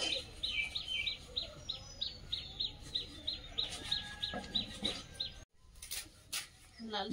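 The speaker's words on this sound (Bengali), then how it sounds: "তার পাশে চলে এসেছে দুটো শালিক পাখি" Two common myna birds call with a quick run of repeated chirps, close and moderately clear, followed by a brief silence and then a few scattered louder calls, with faint voices in the background.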